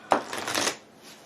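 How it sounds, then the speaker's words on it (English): A deck of cards shuffled by hand during a Pandemic Legacy Season 2 board game, one close riffle-and-ruffle burst of about half a second that fades into quiet room tone. "I finish up shuffling."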